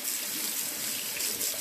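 Tap water runs steadily into a sink while a makeup brush is rinsed under the stream, a continuous close splashing hiss that holds even throughout with no voices.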